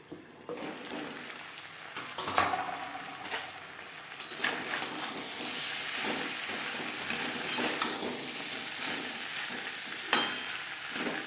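Cauliflower stems with eggplant cooking on low flame in a pan, a soft bubbling sizzle with intermittent clinks and scraping of utensils against the pan.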